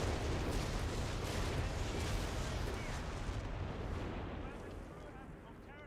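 A Whizbang rocket artillery barrage in Company of Heroes 3 fills the air with a loud, continuous roar of overlapping rocket blasts and impacts that slowly fades over the last few seconds.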